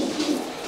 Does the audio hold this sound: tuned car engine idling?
no